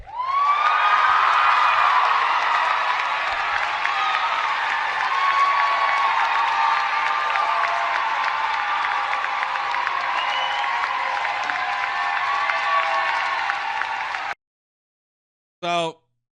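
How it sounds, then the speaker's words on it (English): A large NYU graduation crowd applauds and cheers loudly for about fourteen seconds, a dense, steady roar of clapping with whoops, before cutting off abruptly into silence and a brief final blip. "crowd applauding that"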